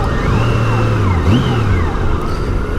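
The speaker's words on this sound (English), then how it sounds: "an ambulance" A loud ambulance siren wails nearby, its pitch sweeping up and down over the steady engine and road rumble of a 2002 Honda GL1800 Goldwing motorcycle.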